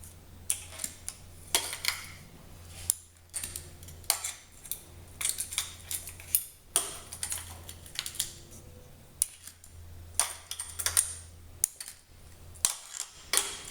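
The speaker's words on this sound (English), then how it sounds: "We're using a magnetic tray here, so we pick all our bolts out." Bolts and washers are taken out during a cylinder head removal and set into a magnetic parts tray. The result is a quiet, irregular series of sharp metallic clicks and clinks spaced a second or two apart, with no talking.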